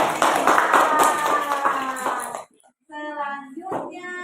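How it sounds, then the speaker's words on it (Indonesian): Students in a classroom clap for a student group, dense rapid hand claps for about two seconds before a brief silence, then a voice speaks. "Tepuk tangan buat kelompok 2."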